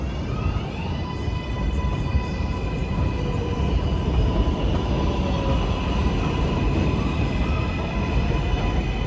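NYC 7 line subway trains, a local and an express, pass along the Flushing route with a loud, continuous roar of wheels on rail and steady high metallic whine throughout.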